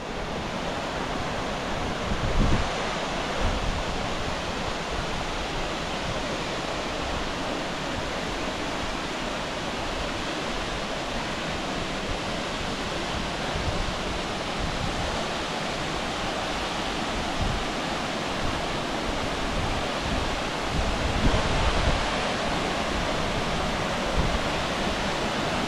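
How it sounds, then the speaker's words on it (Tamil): Hebbe Falls waterfall at Kemmangundi, a steady, loud broadband roar of falling water with no voices, continuous for the whole stretch with slight swells. "ஃபால்ஸ் வந்தாச்சு"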